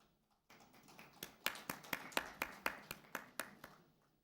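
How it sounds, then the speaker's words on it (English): Quiet, sparse applause for Chandima Mapatuna at a Lanka Premier League cricket auction: about a dozen distinct, evenly spaced claps from a small group, heard alone at a moderate distance. "Like that applause."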